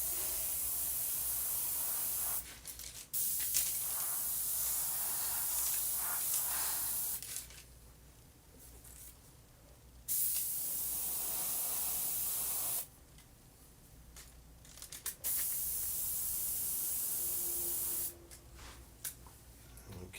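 An aerosol can sprays paint over a stencil for graphics, sending out several long, loud hissing bursts separated by short quiet gaps.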